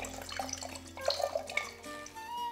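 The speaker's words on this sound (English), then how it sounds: "We're going to remove the water." Hot preheating water poured out of a Chemex coffee brewer into a sink, a faint, close trickle and splash with a few brief drips, with no talking.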